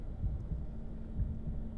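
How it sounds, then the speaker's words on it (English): Bendy's heartbeat in the video game Bendy and the Ink Machine: two slow, deep thumping beats about a second apart over a low steady hum, faint and unaccompanied by talk. "His heartbeat is kind of calming in a terrifying way."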